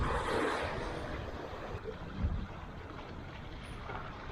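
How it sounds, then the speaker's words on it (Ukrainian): Sea waves wash against a rocky Norwegian shore at night, a soft continuous rush with a gentle swell and some wind, with no voices. "Стало тихо, тільки чути море і нас."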